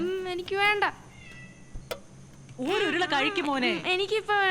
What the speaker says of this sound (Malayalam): ഇവിടെ 3-4 പൂച്ചകളുണ്ട്.